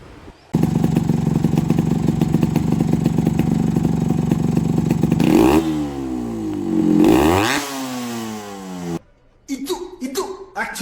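A Yamaha RX135 motorcycle engine, loud and close, holding a steady buzzing idle before being revved up and down in sweeping rises and falls, then cutting off as voices take over at the end.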